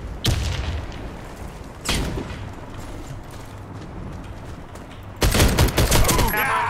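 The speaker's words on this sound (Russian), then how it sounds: "Кидаю гранату!" Grenade blast and gunfire in the shooter game Warface: a loud burst, another heavy burst near two seconds, then a sustained, crackling volley of close gunfire toward the end over constant low rumble.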